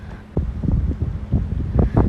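Wind gusts buffet the microphone outdoors beside a bison enclosure, producing loud, uneven rumbling bursts and low roaring noise.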